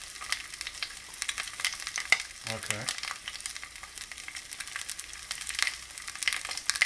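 Frozen Beyond Meat burger patties frying in a stovetop skillet with a touch of oil, a steady crackling sizzle throughout with a brief soft voice partway through.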